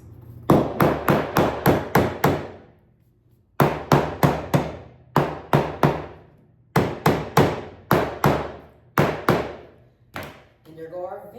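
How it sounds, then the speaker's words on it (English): A mallet strikes peel-and-stick flooring repeatedly in quick runs of sharp, loud knocks, five to seven blows per run with brief pauses between. "we're gonna get our mallet and we're gonna hammer it in place."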